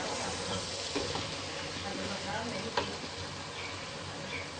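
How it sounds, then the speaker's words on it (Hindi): Cauliflower, potato, carrot and pea sabzi sizzling in a pan while stirred with a spoon, a dense steady frying hiss close by with a couple of faint scraping knocks. "साथ साथ हम चम्मच से हिलाते रहेंगे। गोभी हमारी बहुत अच्छे तरीके से ये गल गई है।"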